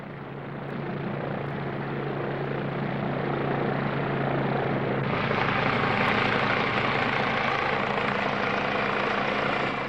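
A helicopter's steady, loud rotor and engine drone fills the whole stretch, with a pulsing hum that brightens midway as it seems to draw closer.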